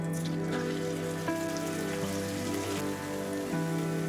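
Ginger, garlic and onion paste sizzles steadily in a pan, a continuous crackling hiss with a steady tonal hum running underneath throughout.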